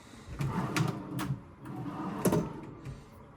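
Dresser drawers in a Disney Contemporary Resort Garden Wing hotel room slide open and shut in a few short wooden thumps and scrapes, close and moderately loud in a quiet room.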